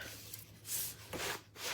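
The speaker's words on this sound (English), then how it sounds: "Let me just take a paper towel instead of a wipe" Soft, close rubbing swipes of a paper towel against sanded wood, three or four strokes in a slow rhythm, quiet with no talking.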